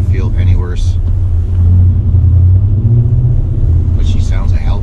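Low, steady engine drone from a truck with oversized tires, a Mopar cat-back exhaust and a cold air intake, rumbling throughout while someone talks at the start and end.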